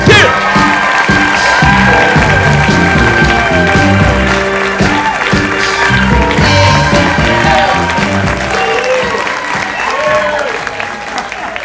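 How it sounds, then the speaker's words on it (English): A Toastmasters audience gives loud, sustained applause with cheering and whoops as a speaker is welcomed, the clapping dense and close throughout with excited voices mixed in. "big round of applause for Ken Griffin."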